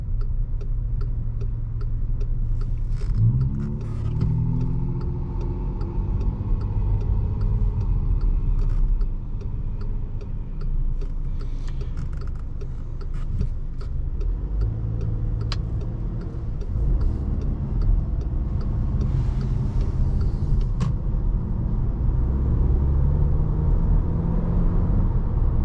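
A 2022 VW Passat Limited Edition drives on the road, its engine hum and tyre rumble forming a steady low drone for the whole stretch, with faint ticking clicks from the cabin now and then.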